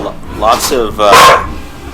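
A dog in a recording studio gives two or three short, close barks and yips in quick succession. They come through clearly over a faint background.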